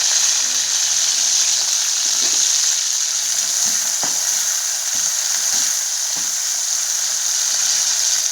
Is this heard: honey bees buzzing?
no